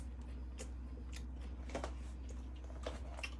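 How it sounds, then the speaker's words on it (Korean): Someone chews a bite of homemade baguette with a crisp crust and soft interior, producing several quiet, irregular crunchy bites and chewing sounds close to the microphone over a low steady hum. "제가 한번 먹어보고 말씀드릴게요."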